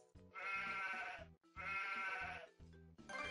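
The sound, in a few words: sheep bleating in Bubble Guppies video game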